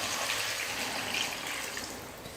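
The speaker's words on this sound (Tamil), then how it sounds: "இப்போ குழம்புக்கு தேவையான அளவுக்கு தண்ணி சேர்த்துக்கிறேன்." Water pours steadily into a pot of mango curry, a short, continuous gushing hiss at moderate volume, alone without talk.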